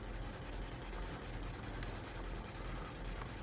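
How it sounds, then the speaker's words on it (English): Steel wool with WD-40 scrubbing yellowed metal on a Honda EZ90 Cub, a steady close rasping rub that continues without a break and without talk. "I just want to see with a little WD-40 and a new piece of steel wool if it will clean that up or not."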